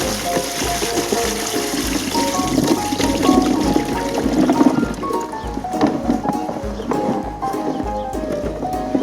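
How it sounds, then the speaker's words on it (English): Water is poured out of a container onto plants at an allotment, a continuous splashing and trickling with irregular knocks and clatters, close by and steady for several seconds. "Rather than waste the water, I'll water the comfy plants while I drain them."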